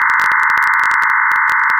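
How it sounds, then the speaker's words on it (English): Codec 2 digital voice modem signal received off the air on radio, a loud continuous buzzing warble in a fixed band, steady and unbroken with rapid flickering noise bursts, no talk. "The modem signal that you hear off the air sounds like this."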